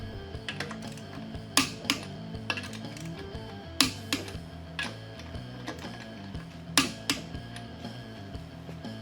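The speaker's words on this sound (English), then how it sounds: "We're going to tighten each lug nut down until we hear the wrench click." A torque wrench gives sharp, distinct clicks as trailer wheel lug nuts are tightened, several spaced clicks standing out over a quieter background of small mechanical ticks, close and fairly clear.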